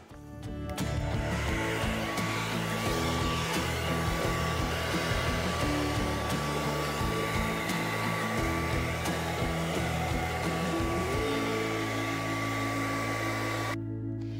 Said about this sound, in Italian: velocizza con il phon